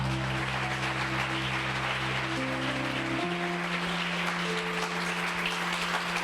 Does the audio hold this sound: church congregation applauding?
yes